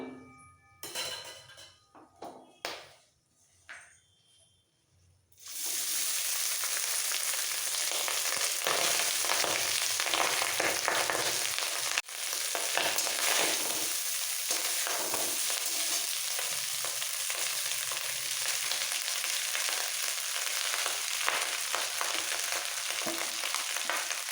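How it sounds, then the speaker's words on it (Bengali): A few clinks from a pan come first, then a loud, continuous sizzle as whole garam masala and rice fry in ghee for fried rice polao, with occasional stirring scrapes under the steady frying. "এবার গোটা গরম মশলাটা একটু ভেজে নেব এবার দিয়ে দেবো রাইসগুলো"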